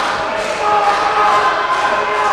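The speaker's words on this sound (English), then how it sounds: "Listen to the crowd here chanting DRI solidly behind this team" A wrestling arena crowd chants for the Death Row Inmates tag team during a match, a dense, fairly loud wash of voices in a large indoor venue.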